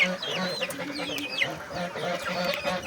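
Chickens clucking and squawking close by while eating zucchini, a busy overlapping chatter of short clucks and higher calls.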